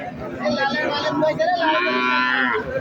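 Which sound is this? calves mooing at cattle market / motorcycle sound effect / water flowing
calves mooing at cattle market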